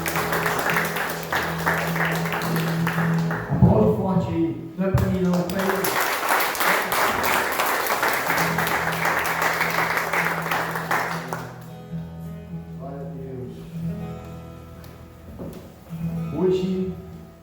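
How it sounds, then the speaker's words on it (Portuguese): Church congregation applauding together during a worship service, a steady wash of clapping running through most of the stretch, with a voice and music heard over it near the start and end. "Você pode aplaudir o Senhor?"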